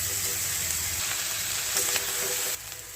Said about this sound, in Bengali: সাবু ভিজিয়ে রাখা ছিল সেটা দিয়ে দেওয়া হচ্ছে